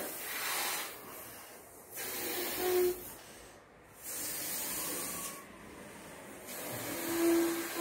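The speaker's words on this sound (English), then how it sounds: "See, now I am blowing a balloon." A balloon is inflated by mouth with three or four long, breathy blows of air, each separated by a short pause for breath, soft and close with no talking.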